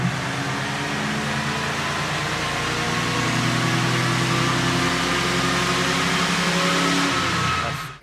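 The engine of a 1993 Ford Mustang runs on a dyno, a loud sustained drone with rising tones as it climbs through the revs, then cuts off abruptly near the end.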